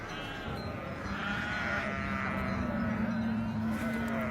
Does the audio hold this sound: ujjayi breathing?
no